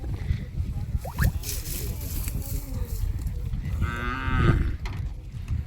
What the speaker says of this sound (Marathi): दुसरा पण एक वासरू इथं.